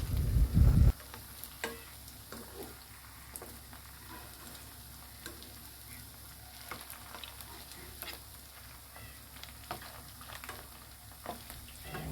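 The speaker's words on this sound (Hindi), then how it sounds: "तो यहाँ पर हम हाई फ्लेम पर इसे फ्राई करते जाएंगे और इस तरह से अलट पलट करते जाएंगे।" Paneer fries in a pan on high flame with a steady, close sizzle, while a spatula stirs and turns the pieces in sharp scraping taps; an initial loud clatter opens the scene, with no talking.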